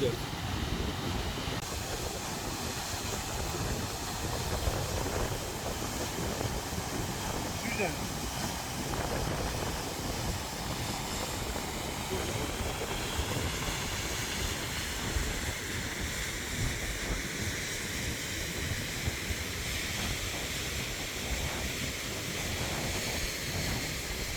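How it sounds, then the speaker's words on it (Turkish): Düden waterfall at Lara, Antalya, sounding as a steady, dense outdoor rush of falling water with some wind buffeting on the microphone, continuous throughout with a faint voice in places. "Bu Şelale."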